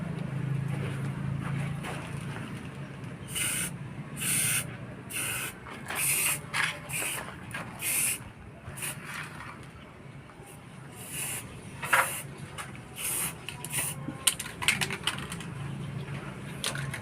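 A spray gun coats an extended rotary tiller for a tractor with paint in repeated short hissing bursts, fairly close, over a steady low hum in the background.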